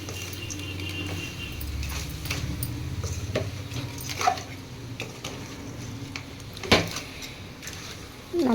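A spoon stirs crab gravy masala in a pan, giving soft scraping and a few sharp metallic clinks against the pan, over a faint low hum.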